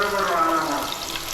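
Onions frying in hot oil with bay leaf, cardamom, cinnamon and cloves, a steady close sizzle with bubbling and a faint tonal hum over it.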